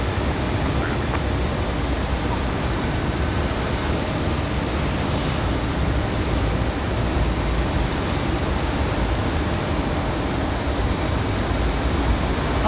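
An airliner rolls out after landing on a wet runway at windy Raleigh-Durham airport, a continuous broad roar of engine and spray noise with wind rumble, steady throughout and without voices.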